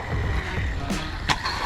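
A cheap small RC truck drives around a skatepark, its electric motor giving a steady whirring drone with brief sharper bursts and clatters as it moves over the concrete ramps.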